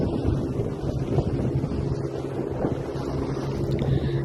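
A boat ride at sea off Goa in strong wind, with steady roaring wind buffeting the microphone over a low rumbling engine and surging water, continuous and loud throughout with no talk.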